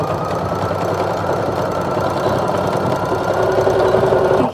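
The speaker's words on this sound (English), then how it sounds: "That's the sound of my sewing machine working." A sewing machine runs steadily up close, a fast continuous mechanical whir and knocking rhythm with no pauses.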